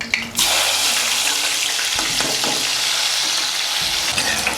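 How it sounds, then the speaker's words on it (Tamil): Soaked chana dal dropped into hot oil for Tamil mixture, erupting into a loud, continuous, close hissing sizzle that holds steady for several seconds. "கடலைப்பருப்பை நம்ம தண்ணியில் போட்டதுனால அப்படியே போட்டுக்கோங்க, நல்லா பொரியணும் உங்களுக்கு"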